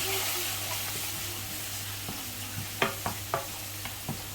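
Spices with chilli powder and turmeric fry in a pan under a constant gentle hiss, with a handful of crisp spoon taps against the pan toward the end.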